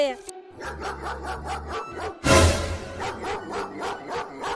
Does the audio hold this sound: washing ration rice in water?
no